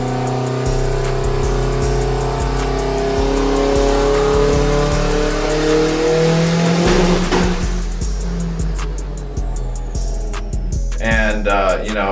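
The engine of a built 800+ horsepower Mitsubishi Evo X revs toward 9,500 RPM with climbing harmonic pitch, loud and close. A shift or cut near the end brings a crackling, choppy burble.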